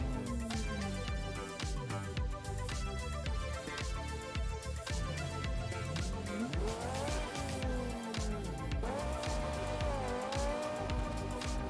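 Custom-built car driving in BeamNG Drive with stiff suspension, engine revving and tires squealing and skidding through turns, loud and continuous, with pitch sweeping up and down as it accelerates.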